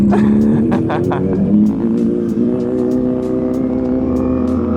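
A motorcycle engine drones loudly and steadily as the bike is ridden, its pitch rising and holding while short clicks and bumps come through over the ride.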